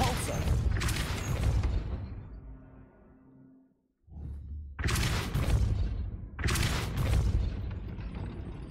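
Spell bursts in the Hogwarts Legacy video game, several heavy whooshing blasts with a booming impact, a short near-silent gap, then two more sharp magical blasts with rumbling decay.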